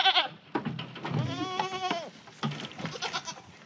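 Goats on a farm bleat close by in a short burst of wavering, nasal cries, one long quavering call in the middle flanked by shorter ones.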